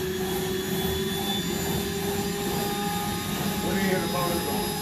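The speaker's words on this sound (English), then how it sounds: "I want you to listen to the motor of the machine as I clean." A home vacuum cleaner motor runs while cleaning, giving a loud, steady whining drone with constant tonal hum and a brief rise near the end. Talk can be heard over it.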